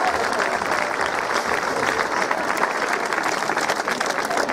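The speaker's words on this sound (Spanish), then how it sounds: "Un fuerte aplauso para Claudia." Sustained audience applause at a fashion show presenting 1980s party dresses, a broad continuous wash of many clapping hands with faint crowd murmur beneath, steady from start to finish.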